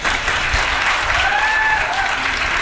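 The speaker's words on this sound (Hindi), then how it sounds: "एक बार आप इन दोनों के सम्मान में तालियां बजा दें।" An audience claps at a Teachers' Day poetry gathering (kavi sammelan) in a hall, a dense steady wash of applause that holds at full level throughout, with a faint tonal hum running beneath it.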